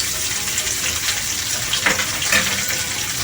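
Curry leaves hit hot oil for a Goan prawn balchao pickle, giving a steady, loud, hissing sizzle that carries on without a break for the whole few seconds.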